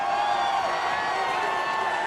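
Crowd at a college football game between South Dakota State and Montana State roars in a steady, dense wash of cheering and whoops, distant and sustained throughout.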